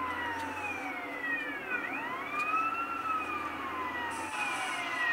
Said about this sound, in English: Start the siren off.